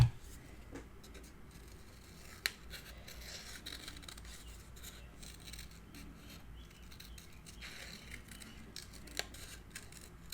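Scissors snip through paper while trimming a piece for a Stamperia Winter Tales mini album, with soft, faint cuts and rustles in a quiet room and a couple of sharper clicks.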